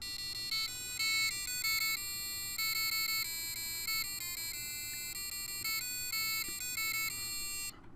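A piezo speaker from an electronics lab board plays a programmed song: thin, piercing beeping tones in a quick melodic run of short and held notes, loud and steady throughout with no talking.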